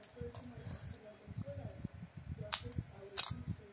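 A Canon EF film SLR fires its shutter twice in quick, crisp clicks near the end, after quiet handling noises and soft talk nearby.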